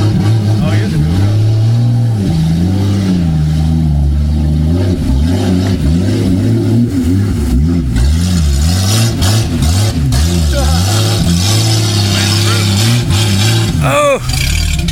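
A truck engine in two-wheel drive revs hard while driving through a dirt pit, loud and close throughout with shifting engine pitch, and voices talk over it near the end.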